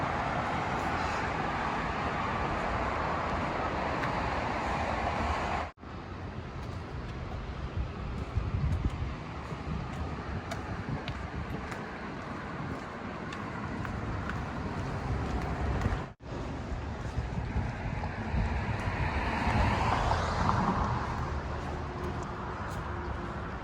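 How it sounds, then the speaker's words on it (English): Traffic noise from a road about a mile short of US 22, a distant wash of passing vehicles mixed with wind buffeting the microphone, steady and fairly faint throughout. "You hear the traffic starting."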